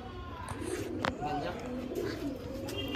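Madrasi pigeons coo in a loft, their low throaty calls rolling in close succession over a steady background, with a brief sharp knock near the middle.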